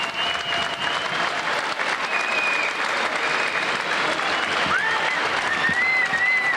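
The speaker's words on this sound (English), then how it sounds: "And I think the crowd tells you their reaction." A boxing crowd at a title fight applauds steadily after the final round, a loud, dense wash of clapping and cheering with occasional whistles cutting through.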